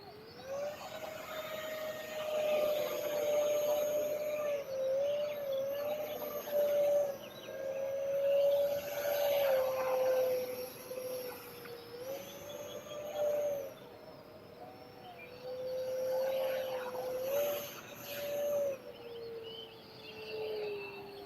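An E-Flite F-15 EDF radio-controlled jet airplane flies past, its ducted fan giving a steady high whine that rises and falls in pitch as it speeds up and turns through aerobatics, with a broad airy rush underneath and no voices.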